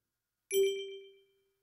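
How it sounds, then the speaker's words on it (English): A short, bright Claude Code stop-sound notification ding rings once when a task finishes, a single clean chime with a quick attack that fades over about a second, alone with no talk. "we can hear now this little ding when it is finished"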